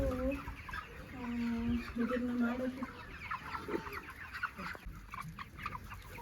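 Chickens on a poultry farm cluck and call in a busy, overlapping chorus, with a few drawn-out tonal calls early on, while a person speaks briefly.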